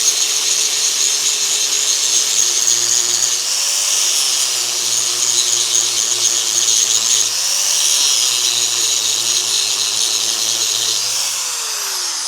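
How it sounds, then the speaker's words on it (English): An angle grinder's wheel grinds down a weld on a Caterpillar 933 loader, a steady high-pitched whine and grating hiss that holds loud and close for the whole stretch, with slight dips in pitch as the wheel bites. "So I'll just put the grinding wheel on now and take a bit more of that off"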